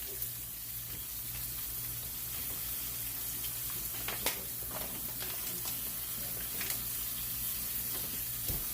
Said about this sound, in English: I'm cooking them about, well, browning them, not really cooking them. I'm browning them on each side